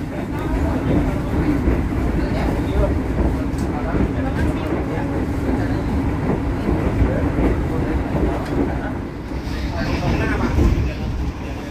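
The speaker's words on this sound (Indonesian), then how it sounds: "kereta api Argo Permanggrek berjalan langsung di stasiun Pekalongan ya" Argo Permanggrek express train running nonstop through Pekalongan station at around 120 km/h, a loud continuous rumbling roar with rattling wheel and carriage noise from on board, steady throughout.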